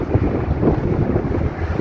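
Strong desert wind in the UAE blows across the microphone, carrying dust, with a steady loud rumbling buffet and no voices.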